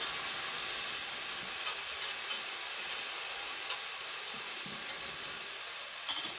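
Carrots cook gently in a pan for a bolognese, giving a soft, steady sizzle and hiss throughout with a few faint, scattered ticks and pops over it. No voices are heard.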